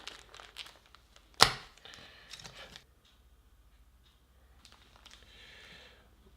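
Crinkly tearing of plastic packaging as foam microphone windscreens for a RODE SmartLav are unwrapped, with one sharp loud rip followed by softer rustling and crumpling, then quiet handling, no talk.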